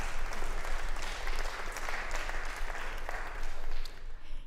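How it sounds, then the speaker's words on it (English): A church congregation at First Baptist applauds in a steady, fairly soft wash of clapping that holds for several seconds with no talking over it. "Y'all can give him a round of applause."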